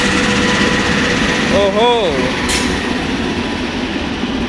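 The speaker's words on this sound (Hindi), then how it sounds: "ये प्लेटफॉर्म नंबर 1 पर एक ये ट्रेन आई है" A passenger train arrives at platform 1 of a railway junction, a steady loud rumble throughout with a brief rising horn-like tone midway, while a man exclaims.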